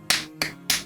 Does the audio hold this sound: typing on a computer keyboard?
no